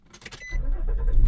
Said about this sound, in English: let's start up the truck and let's hope it all works